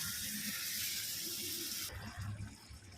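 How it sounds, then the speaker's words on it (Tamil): Tamarind water poured into a simmering kuzhambu: a steady, loud rushing pour for about two seconds, then cutting off to low bubbling and stirring noise close by. "புளி ஊற்றிடுறோம். இது கொஞ்சம் நல்லா சுண்டி வரட்டும்."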